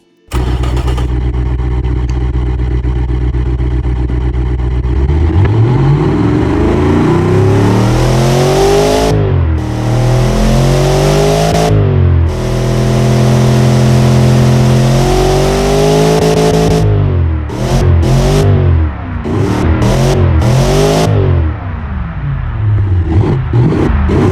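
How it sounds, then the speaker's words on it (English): A 7-liter Ford V8 engine in a Saleen S7 revs repeatedly in the game Automation, rising and falling in pitch with sustained loud roaring. "this Ford engine, this 7-liter Ford engine"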